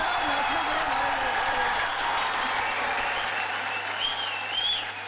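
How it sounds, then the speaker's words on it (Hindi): A television talent-show audience on X Factor India breaks into loud, sustained applause for a guest named Sanjay, a thick wash of clapping with crowd cheers and voices mixed in throughout. "एक बार जोरदार तालियां हो जाए संजय जी के लिए।"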